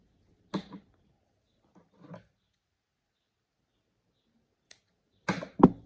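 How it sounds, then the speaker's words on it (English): Scissors cut yarn while crocheting a cushion cover, giving a few sparse, close, soft snips and clicks separated by silence, with a cluster of sharper snips near the end. "I'm going to cut the yarn"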